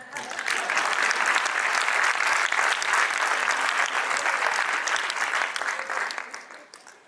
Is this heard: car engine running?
no